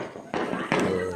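Diwali firecrackers bursting nearby, two sharp loud bangs in quick succession with a rumbling tail, voices talking around them.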